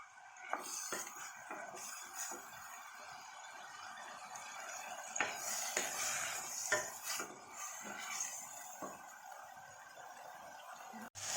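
A spoon scrapes and clinks around a pan of Assamese banana stem curry with dal, giving irregular metallic taps and scrapes over a soft steady hiss, close by with no talking.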